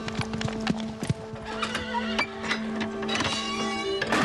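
A horse's hooves clip-clop steadily nearby while it gives clear neighs and whinnies, the sounds fairly loud and continuous with no talk over them.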